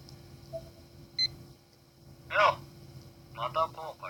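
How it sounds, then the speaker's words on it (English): A phone call rings in the horror video game Corpse Party: Blood Drive: a short electronic beep, then two louder bursts of warbling ringtone, fairly close and clear over a low hum. "My yellow darkened phone screen suddenly lit up again as a call came through"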